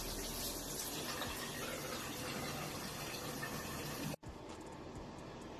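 Water runs steadily from a bathroom tap while someone rinses their face, a continuous broadband rush that is briefly cut off near the end, then resumes.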